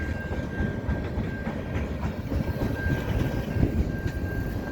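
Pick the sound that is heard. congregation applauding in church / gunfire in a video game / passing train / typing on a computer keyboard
passing train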